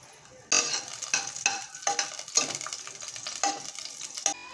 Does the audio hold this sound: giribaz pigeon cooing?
no